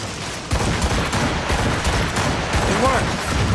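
Ship cannons fire a volley in the naval combat of the video game Assassin's Creed Rogue, a dense run of overlapping booming blasts that starts abruptly and rumbles on loudly for several seconds with game noise beneath.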